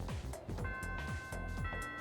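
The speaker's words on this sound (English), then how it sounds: "The first bell has rung." A chiming school bell rings at Gekkoukan High in Persona 3 Reload, its sustained bright tones layered over a steady rhythmic game music loop.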